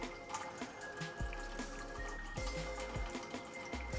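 Water draining off soaked cashews, with steady trickling and dripping and a few soft knocks of the container, close and moderately quiet.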